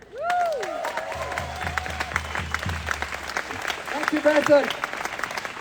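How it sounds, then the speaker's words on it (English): Applause from a crowd at an outdoor Free Palestine rally in Melbourne, steady clapping with a few cheers, mixed with someone speaking nearby and a rhythmic low drum-like thumping in the middle. "Big round of applause for Basil again."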